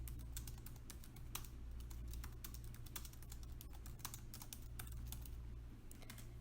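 Someone types on a computer keyboard to enter a book title in a search bar, producing a rapid, fairly steady run of key clicks over a low background hum.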